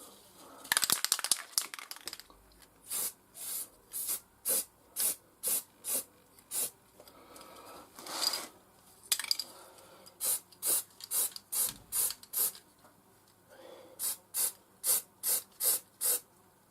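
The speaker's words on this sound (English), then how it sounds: "Now we spray a developer" Aerosol crack-detection developer sprayed onto a broken part from a BSA A10 motorcycle engine, a run of short regular hissing bursts about half a second apart, close and clear, with a few longer rubbing or spraying sounds mixed in.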